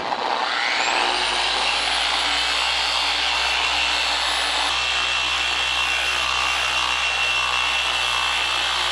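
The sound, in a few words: machine polishing Tesla car paint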